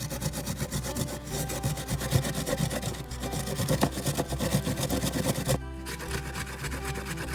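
Peeled fresh ginger is rubbed against a grater in quick rasping strokes, a rhythmic scraping that runs steadily close by, pausing briefly near the end.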